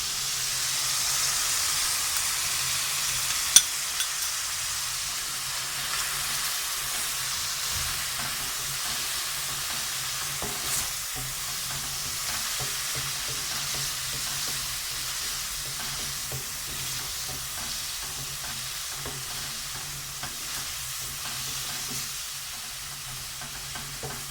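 Whole spices (black cardamom, cloves, black peppercorns) sizzle and fry steadily in hot oil in a pan for a beef keema karahi, with a continuous bright hiss and occasional stirring, no talking.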